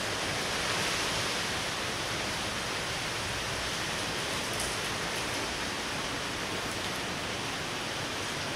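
Hurricane Beryl's rain and wind lash Grenada during landfall, a dense, unbroken roar of downpour and gusts filling the scene at an even, heavy level with no voices.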